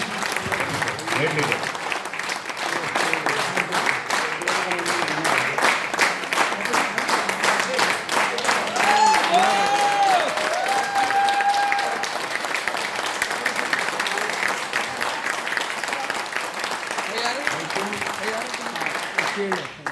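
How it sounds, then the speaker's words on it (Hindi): A crowd at a technical event breaks into loud, sustained applause that continues for about twenty seconds. Voices and brief whistles are heard over the clapping. "पीछे से तो एक बार जोरदार वाली तालियां"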